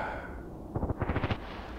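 Rapid automatic fire from an OTs-33 Pernach pistol in the shooter game Contract Wars, a quick burst of about eight shots under a steady background rumble.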